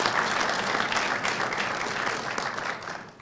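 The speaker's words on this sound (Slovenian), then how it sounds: "Aplavz za vse naše žene tukaj." Sustained applause from a crowd, dense steady clapping that fades slightly toward the end.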